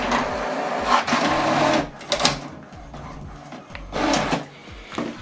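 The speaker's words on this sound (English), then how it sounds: "You can see we printed this out double-sided from this printer" A printer fed from a laptop prints a double-sided document, with steady mechanical whirring and feeding, pauses, then further rattling and rolling passes as the paper is drawn through.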